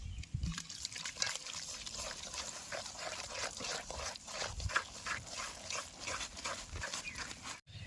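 Water trickles into flour dough for golaruti as it is mixed by hand, a soft, close dribbling with wet squelches. A dog whimpers faintly in the background.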